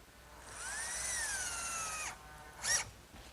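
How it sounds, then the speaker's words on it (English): Power drill driving wood screws to secure cleats on a wooden kitchen hutch, a rising motor whine held for about a second and a half, then a short second burst, fairly faint with no talking. "they get secured in place with some wood screws"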